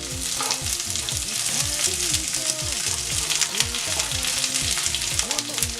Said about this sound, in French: on va faire revenir les oignons